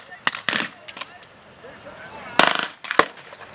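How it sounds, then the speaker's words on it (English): Machine gun fire in a World War II video game comes as sharp, loud bursts and single cracks in two clusters, separated by quieter rumbling battlefield background. "The machine gun is going absolutely ape in the middle there"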